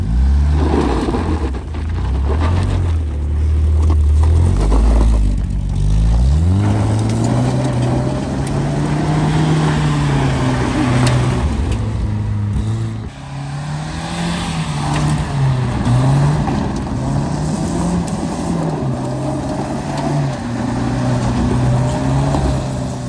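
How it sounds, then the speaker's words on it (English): An old 1965 Toyota Corona with a welded differential, driven in slides, its engine droning and revving up and down up close over about twenty seconds, with no voices. "I take my 1965 Toyota Corona, I weld the diff, and I see how well it slides"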